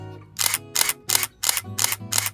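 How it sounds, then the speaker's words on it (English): Six crisp Canon EOS 10D shutter clicks fire in an even, rapid rhythm, each a loud close snap separated by short silences. "I want you to hear this shutter one more time"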